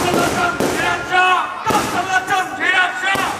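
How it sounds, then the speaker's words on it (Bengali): Colourful fireworks bursting in a crowd setting, sharp bangs at intervals with a cheering, whooping crowd of devotees in between, loud and close. "রং বেরঙের আতশবাজি চলে দীর্ঘ সময় ধরে"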